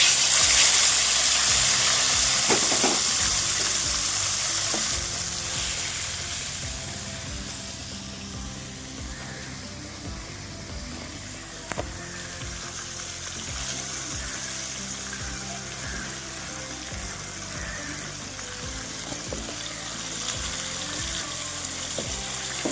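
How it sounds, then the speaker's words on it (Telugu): Dried gorakalu fish fry in hot oil for a salted-fish curry. A loud, dense sizzle and crackle runs continuously throughout, softening slightly after the first few seconds, with no voices. "ఈ ఆయిల్లోనే అండి ఎండు చేపలు ఇది గొరకలు ఇవ్వనంటండి గొరకలు అంటండి ఎండు చేపలు వేసుకుంటున్నాను"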